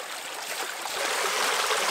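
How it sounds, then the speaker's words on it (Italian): Mountain torrent water flowing nearby, a steady, dense hiss and rush of running water heard alone for two seconds. "l'acqua arriva da un torrente che è situato a diverse centinaia di metri da qui"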